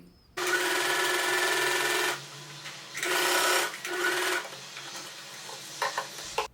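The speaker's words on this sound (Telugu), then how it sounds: "ఇలాగే ఇంకో సైడ్ కూడా స్టిచ్ చేసుకోండి" A sewing machine runs in bursts while stitching a blouse at the armhole, with a steady whirring hum that stops and restarts several times, close and fairly loud, with no talking.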